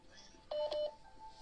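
A short two-part electronic phone signal, like a call-waiting beep, sounds faintly during a call against low background noise.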